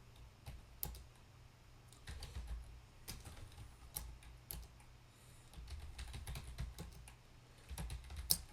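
Typing on a computer keyboard, a quiet close run of irregular key clicks in bursts with short pauses between them.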